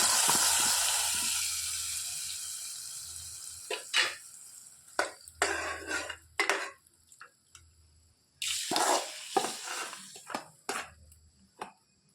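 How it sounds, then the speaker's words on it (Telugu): Hot tempering with asafoetida is poured into a Malabar spinach and raw mango dal, giving several loud crackling sizzle bursts separated by quiet gaps, with no voices. "రెడీ చేసుకున్న తాలింపుని పప్పులో వేసేసుకోవాలి."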